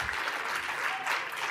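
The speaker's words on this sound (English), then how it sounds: "Can we get a round of applause?" Steady audience applause, a dense wash of clapping hands filling the space throughout, moderately loud with no pauses.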